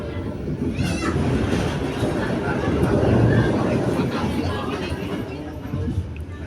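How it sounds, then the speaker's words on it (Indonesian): A loud, continuous rumble of a passenger train rolling along as it passes the Serayu train on a double-track line, with rushing noise and faint rhythmic clatter building in the middle. "kereta yang kita naik ini akan berpapasan dengan kereta api Serayu tujuan akhir Pasar Senen"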